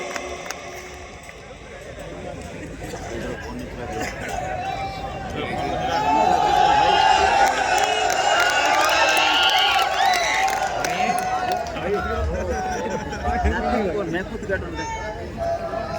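Applause from the audience at a Jat community foundation day and Vishwakarma Jayanti gathering in Vadodara swells into a loud burst of clapping midway, with someone speaking over a microphone before and around it.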